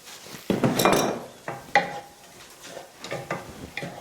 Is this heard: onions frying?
yes